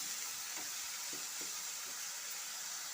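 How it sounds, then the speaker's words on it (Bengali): Eggplant frying in a pan with salt while it is stirred, a soft steady sizzle and hiss carrying several light scraping strokes, fairly quiet and close, no voices. "এখন আমি আবার একটু বেগুনটা নাড়িয়ে নেব।"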